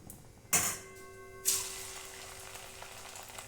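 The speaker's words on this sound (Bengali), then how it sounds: "একইভাবে আমি এবার বাকি মিষ্টিগুলোও ভেজে নেব" Sweets made from flattened rice (chire) dropped into hot oil, two sudden bursts of sizzling followed by a continuous, softer frying hiss.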